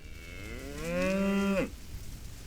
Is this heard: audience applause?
no